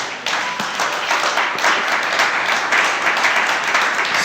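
A church congregation applauds in sustained, dense clapping that fills the room at steady loudness, with no talk over it.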